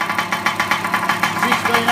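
A RC50 Phantom WB44 engine running on old fuel revs lightly, close by, in a fast, even, pulsing chug that repeats several times a second.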